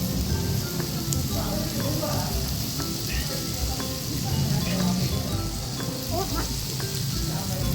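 Shrimp sizzle and fry on a Korean-style pork grill pan (moo kratha) at a table, a steady dense crackle running throughout with people chatting over it.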